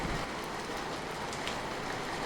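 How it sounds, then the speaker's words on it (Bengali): Heavy rain falling, a dense and continuous wash of drops hitting surfaces, steady and even throughout, no voices. "তারপরে একেবারে সাংঘাতিক বৃষ্টি পড়ছে"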